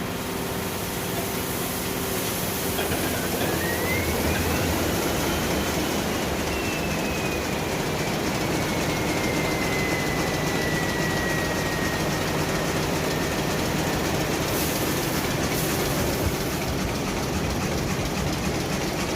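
A ship's main engine starts and runs on starting air. A steady, loud mechanical roar fills the engine room throughout, with a rising whine that slowly falls away and no speech.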